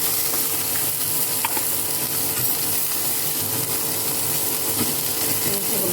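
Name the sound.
vegetables frying in a little oil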